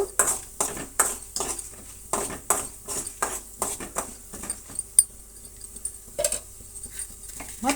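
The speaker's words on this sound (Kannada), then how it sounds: "ಒಂದಿಷ್ಟು ಬೇಳೆ ಮತ್ತು ಕಡಲೆಬೇಳೆ ಫ್ರೈ ಮಾಡೋಣ" Urad dal and chana dal are stirred in a pan for a radish chutney tempering, giving a steady run of close, rhythmic scraping and clinking strokes from a utensil against the pan.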